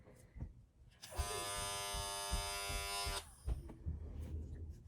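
A Styl Pro makeup brush cleaner spinning a brush dry, giving a steady high electric whir that lasts about two seconds and then stops, close up, with light handling noises around it.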